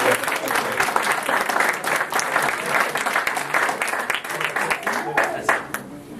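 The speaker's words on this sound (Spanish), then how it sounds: "reiteramos entonces el aplauso para la clase." Seminar audience applauds a class at a strategic communication event, sustained close clapping from many hands with voices mixed in, thinning slightly toward the end.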